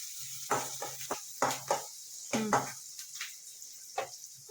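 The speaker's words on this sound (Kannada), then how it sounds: "ಇವಾಗ ನೋಡಿ ಈರುಳ್ಳಿ ಎಲ್ಲ ಫ್ರೈ ಆಗಿದೆ" Onions fry in hot oil in a pan, heard as short bursts of sizzling and stirring scrapes in an irregular rhythm with quiet gaps between, close and fairly soft.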